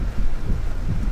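Steady rain pours over the west area between Guajataka and San Sebastián, Puerto Rico, a dense, continuous low rumbling wash filling the whole moment without any voices.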